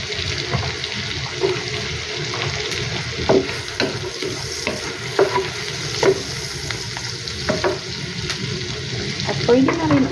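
Garlic frying in butter for buttered garlic shrimp, a steady loud sizzle with a spoon or spatula scraping and stirring the pan now and then, close and alone without talk.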